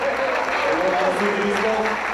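An audience at a 40th anniversary celebration applauds, a dense, even wash of clapping from a crowd that holds steady through a short burst.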